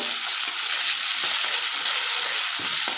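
Chopped onions and green chillies fry in a pan with a little salt, giving a loud, close, continuous sizzle with occasional stirring scrapes.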